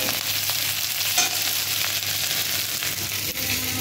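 Spices fried in a pan for a taro and Malabar spinach curry, hissing in a steady, continuous sizzle with soft stirring scrapes and no talking throughout.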